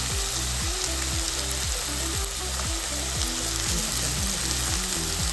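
Tomato and garlic fry in a pan with a loud, continuous hissing sizzle, and a low rhythmic thumping pulse repeats steadily underneath throughout.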